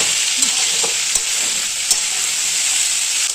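Young jackfruit stirred and fried in a pan with a loud, steady sizzle, and a spoon scrapes the pan in a few light, evenly spaced knocks.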